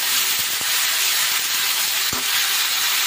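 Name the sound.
cumin and coriander frying in a pan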